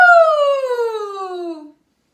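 A voice imitates a siren with a single gliding tone sliding smoothly downward in pitch, loud and close, stopping abruptly after under two seconds.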